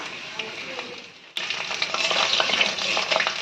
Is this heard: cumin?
yes